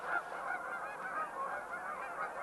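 A banded goose at Horicon Marsh honks repeatedly at close range as it is carried off for release, its calls forming a continuous, slightly wavering stream of nasal honks with no talking.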